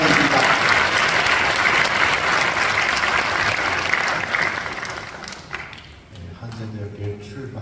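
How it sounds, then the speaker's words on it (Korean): A large audience at a university presidential inauguration church service bursts into loud, dense applause that tapers off toward the end, leaving quieter room noise. "큰 박수로 세상 감사드립니다."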